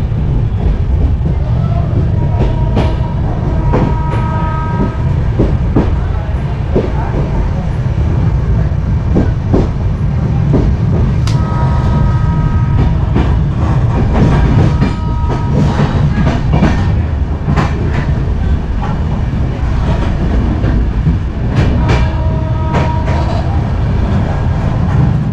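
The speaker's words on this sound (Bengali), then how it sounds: "ট্রেন কিন্তু একদম রাইট টাইমে ছেড়েছে, 11:45-এ" A train from Kolkata to Varanasi rolls into Dum Dum station with a loud, continuous rumble, rhythmic clickety-clack of wheels over rail joints and occasional squeals, heard from inside the carriage.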